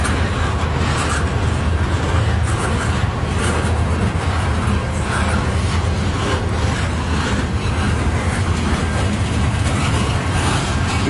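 A CN southbound freight train passes at night in Port Huron, Michigan, a steady loud rumble of wagons rolling by close at hand without pause, with no voices over it.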